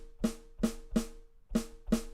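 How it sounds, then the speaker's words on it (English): Five sharp snare drum hits, unevenly spaced, each a crisp crack with a short ringing tail. They are fairly faint and play alone with no talking. "This is what a snare sounds like."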